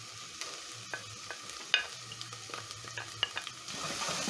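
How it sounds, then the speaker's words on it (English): Onions and garlic hit hot oil in a pan and are stirred, giving a soft sizzle broken by scraping clicks and sharp utensil taps, with one loud clack partway through and the frying growing fuller toward the end. "I'm going to add in onions together with garlic"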